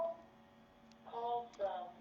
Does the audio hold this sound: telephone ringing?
yes